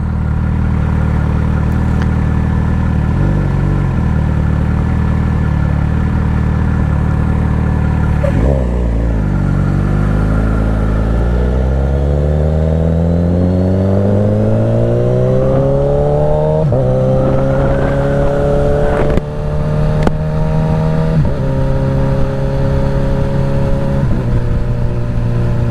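2025 Suzuki GSX-S1000 motorcycle fitted with a full Dominator exhaust, idling then revved repeatedly with rising and falling sweeps, loud and close, settling back between blips.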